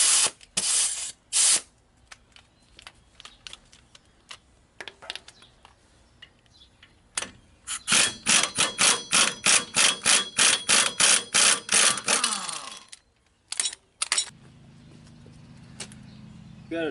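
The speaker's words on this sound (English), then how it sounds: "Hopefully that'll just come off with this 1/2 inch impact." A 1/2 inch impact wrench loosens nuts on a GMC or Chevy 4x4 dually front brake setup in a series of loud, close, rapid hammering bursts, short at first, then a long run of rattling blows, with quiet gaps between.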